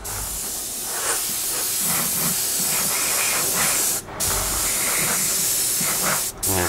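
An airbrush sprays paint coats onto a 1/48 scale Sea Vixen model kit as a continuous close hiss, broken by two brief pauses near four and six seconds.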